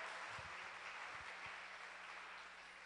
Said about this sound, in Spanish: un aplauso para la hermana Dilcia